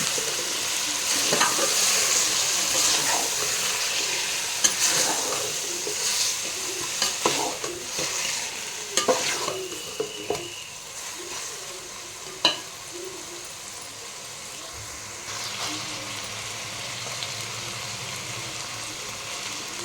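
Chicken pulao with mint stirred in a frying pan: steady sizzling and frying with repeated scraping, clinking stirs throughout, close and moderately loud, no talking.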